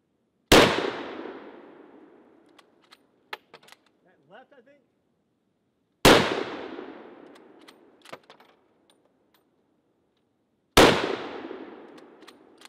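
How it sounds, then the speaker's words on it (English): An Italian Carcano carbine rifle fires three loud, sharp shots at World War I style targets outdoors, several seconds apart, each followed by a decaying echo, with faint clinks and a brief voice between shots. "let's take some shots with the carbine on our World War I style targets out here."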